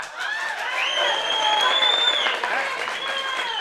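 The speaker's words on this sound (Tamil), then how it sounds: "அவ்வளோ பேரும் கைதட்டுறாங்க" Audience at a political rally applauding, a steady wash of clapping from a large crowd that swells and holds, with a voice carrying over it.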